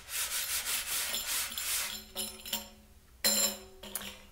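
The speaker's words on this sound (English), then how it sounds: "a nice brushing sound if you want to use that stroke" A hand brushes across the skin of a Renaissance head frame drum in a few soft, airy swishing strokes, followed by quieter scraping touches and a couple of brief brighter rustles near the end.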